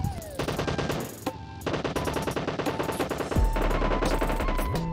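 Rapid automatic gunfire from the mobile battle royale game BGMI during a final-zone fight, with dense, continuous bursts of shots layered over game music and effects, loud and close throughout.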